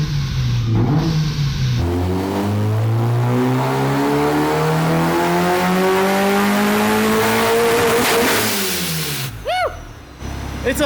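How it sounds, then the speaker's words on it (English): A supercharged go-kart engine revs hard on a dyno, climbing in a long rising sweep of loud, close engine tone for about eight seconds before dropping off, with brief quieter moments and faint sounds at the start and end. "It's a loud little car."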